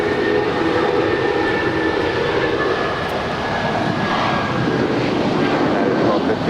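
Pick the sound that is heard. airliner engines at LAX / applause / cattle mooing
airliner engines at LAX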